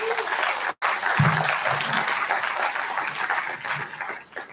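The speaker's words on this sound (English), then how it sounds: "I think the registrar deserves a better applause." Audience applause at a university orientation program, sustained crowd clapping with a brief break early on and a voice briefly heard beneath.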